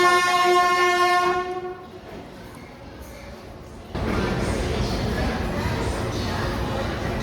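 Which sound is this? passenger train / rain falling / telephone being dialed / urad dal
passenger train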